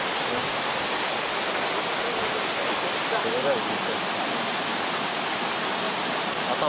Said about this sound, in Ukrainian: Цей водоспад є одним із контрольних пунктів перегонів.